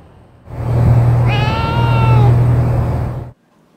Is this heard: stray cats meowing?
yes